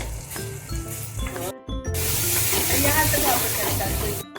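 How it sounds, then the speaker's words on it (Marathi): Ground homemade masala sizzling loudly in hot oil in a pan for Malvani prawn curry, a steady close hiss with stirring and a brief break partway. "मसाला आहे तो आपण टाकतो घ्यायचं आपल्याला तेल पर्यंत असे निघेपर्यंत आपल्याला परतायचं"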